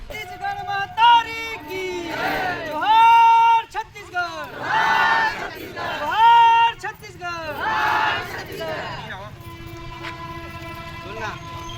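Large crowd of villagers gathered at a panchayat office in Tilda, Raipur district, Chhattisgarh, a loud continuous murmur of many voices with rising shouts and calls, and a nearby voice speaking over it throughout.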